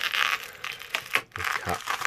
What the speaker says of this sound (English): now I'm going to just use a blade, Stanley blade